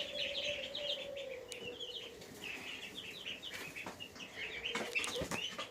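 Chickens cluck and flap their wings around a newly finished coop on a sunny day, with a low, drawn-out call running underneath. The sound is faint and somewhat distant, with scattered rustles and no voices.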